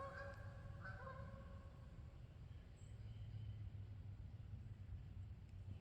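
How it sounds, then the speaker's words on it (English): A few geese honk while flying past at a distance, their short calls clustered in the opening second and fading quickly beneath a steady low rumble of wind or distant traffic near a swamp during trapping season. "And here comes some geese."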